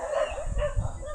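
A dog barking faintly at a distance, a few short yelps over a low background hum with no talking.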